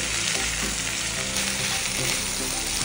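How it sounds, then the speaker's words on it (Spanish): Steady, dense sizzling of sausages and onion frying in a hot pan, a continuous crackling hiss with no talking. "fríe las salchichas junto con la cebolla"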